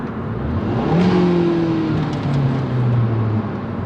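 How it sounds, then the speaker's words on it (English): A Hyundai Veloster engine with a Go Fast Bits DVX valve in bypass mode revs in neutral and holds steady with a rising, droning whine, then drops back slightly, loud and close without load. "I'm gonna put it in neutral and just kind of rev towards the red light"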